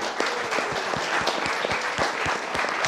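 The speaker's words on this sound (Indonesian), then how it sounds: "Tepuk tangan buat Pak Presiden." An audience at an Indonesian televised debate applauds the President with steady, dense clapping throughout, individual sharp claps standing out from the continuous wash.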